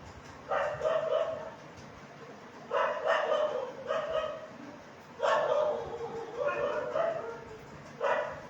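Several dogs on a street bark in repeated bursts, a loud cluster of barks followed by pauses and more volleys, fairly close, with some yipping mixed in and no talk over them.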